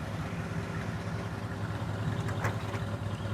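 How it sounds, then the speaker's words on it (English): A 1959 Ford Skyliner retractable idles with a steady, low exhaust rumble, close and continuous with no talk over it. "Exhaust sounds good."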